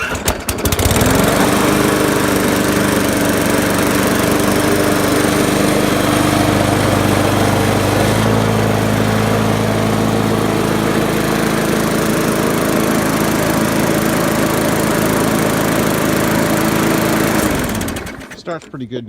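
A push lawn mower with a freshly cleaned carburetor fires up and runs at a loud, steady engine drone close by. It keeps going for about seventeen seconds, then cuts off abruptly.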